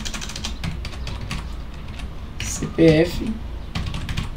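Keys clack on a computer keyboard while entering data in Google Sheets, a quick irregular run of taps throughout, with a person speaking briefly in the middle.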